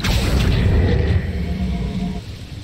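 Depulso spell cast in the Hogwarts Legacy video game, a heavy booming whoosh that rumbles loudly for about two seconds before fading away.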